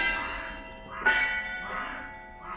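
A church bell rings in a small bell tower, sounding oddly. Sustained metallic ringing swells and decays, with one sharper strike near the middle, moderately loud, with no talk.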